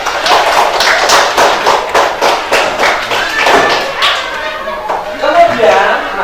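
Children in a classroom clap for a classmate, a dense, fairly loud burst of overlapping hand claps that goes on for several seconds and then thins out into scattered claps and background murmur.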